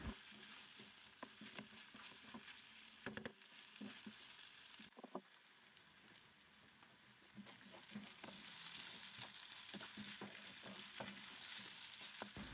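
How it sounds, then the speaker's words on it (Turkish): Rice sautéing in a pan for Turkish sarma filling gives a continuous close sizzle and crackle, broken by a spoon's scraping stirs and occasional taps against the pan, with no voices. "pirinçlerimiz topak olana kadar kavurma işlemine devam edelim"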